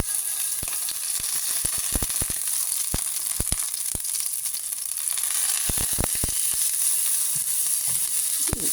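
Mustard seeds sputter in hot oil with a dense sizzle under rapid, irregular sharp pops and crackles. The sound is close and fairly loud, with no voices.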